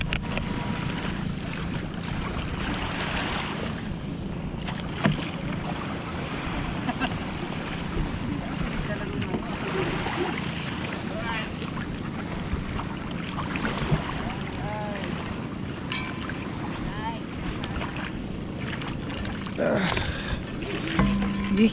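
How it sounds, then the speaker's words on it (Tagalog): A small outrigger boat carries passengers toward Jomalig Island in Quezon, its steady engine drone mixing with rushing water, waves and wind buffeting the microphone for a long continuous stretch, with faint voices now and then. "Sakay na tayo ng bangka."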